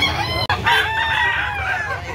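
A gray rooster at a gamefowl sale in Carbon, Cebu crows once, loud and close, its long call drawn out over about two seconds after a brief opening note.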